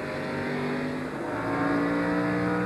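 Several NASCAR stock cars roar past on the track at the 1999 Exide NASCAR Select Batteries 400, a loud, sustained engine howl that swells slightly as the pack passes, with no talk over it.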